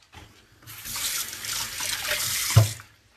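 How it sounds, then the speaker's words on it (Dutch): Tap water runs from a kitchen faucet in the Netherlands, a steady hissing gush that starts abruptly, swells, then stops with a thud near the end; no talking. "Dat komt er in Nederland uit de kraan."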